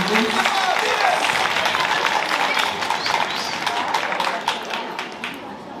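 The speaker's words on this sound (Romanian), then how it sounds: "Aplauze!" Sustained audience applause at a high school freshman ball, dense clapping that tapers slightly toward the end, with voices mixed in.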